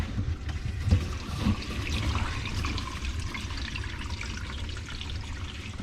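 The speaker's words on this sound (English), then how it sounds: "Alright, I'm gonna turn the water on." Water runs steadily through a newly installed BG3000C water filter after the supply is turned on, a continuous close rushing and trickling flow with a brief knock near the start and no talk.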